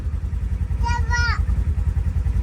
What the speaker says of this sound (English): And I do think by listening to it that, of course, this is a Gen 2 ProStar motor.